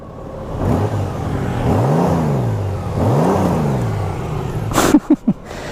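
A 2019 Honda Gold Wing Tour DCT 1800 cc touring motorcycle engine revs up twice in smooth rising-and-falling swells, then settles to a low idle, followed by a few short sharp clicks.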